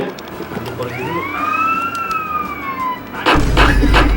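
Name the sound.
police siren chasing player, from a video game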